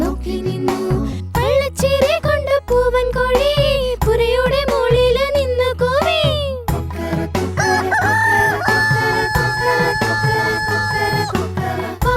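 Rooster crowing in an animated Malayalam children's song, probably sung by a voice imitating the cock-a-doodle-doo in repeated rising calls over loud, bright music with a steady beat.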